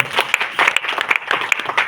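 A crowd applauding, a dense patter of many hands clapping at once, lively and uneven in loudness.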